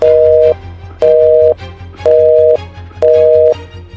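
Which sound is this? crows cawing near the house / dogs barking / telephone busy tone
telephone busy tone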